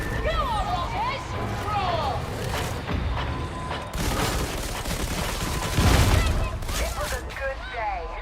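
Pistol fire in the video game Darktide cracks out in quick repeated shots amid mechanical clicks and game effects, heard under players chatting.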